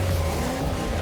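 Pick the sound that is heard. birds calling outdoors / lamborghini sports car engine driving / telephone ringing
lamborghini sports car engine driving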